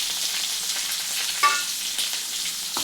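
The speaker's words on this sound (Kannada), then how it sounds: "ಇದನ್ನೊಂದು 2 ನಿಮಿಷ ಬ್ರೌನ್ ಆಗೋ ತನಕ ಫ್ರೈ ಮಾಡಬೇಕು." Two thick onions, sliced lengthwise, frying in a pan, a loud continuous sizzle with a brief scrape or clink partway through and near the end, close up with no voices.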